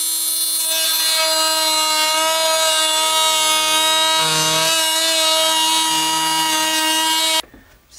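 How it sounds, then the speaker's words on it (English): A Dremel Multimax oscillating tool cuts drywall around pipes in a continuous high buzzing whine, loud and close, for about seven seconds before abruptly stopping. "Dremel Multimax to do the cutting"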